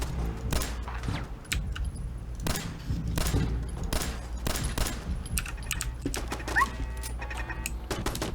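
Gunfire in Fallout 4 during an ambush, with repeated loud shots and short bursts spaced irregularly across the stretch, some near and heavy, others lighter, with clicky mechanical noises mixed in.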